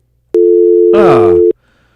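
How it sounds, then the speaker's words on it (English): A steady, loud electronic tone holds for just over a second and then cuts off abruptly, like a phone line left open after hanging up. "I just heard a dial tone"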